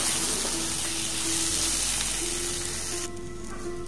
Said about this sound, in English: Just saute them for about 5 seconds and then switch off the gas